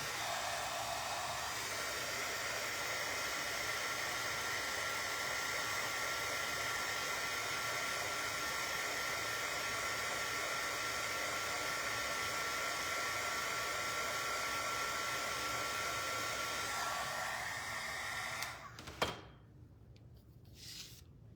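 A hair dryer blows steadily on a farmhouse-style spring kitchen mixer craft piece, a constant close whooshing hum for most of the time before it switches off, followed by a few faint handling sounds.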